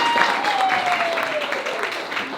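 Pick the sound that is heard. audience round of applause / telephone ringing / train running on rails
audience round of applause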